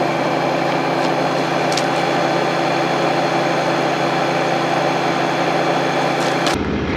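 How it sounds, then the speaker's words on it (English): Air suspension on a RAM dually pickup raising, heard as a steady engine idle with a constant mechanical hum and hiss at close range that cuts off abruptly near the end. "I can simply raise the air suspension slightly."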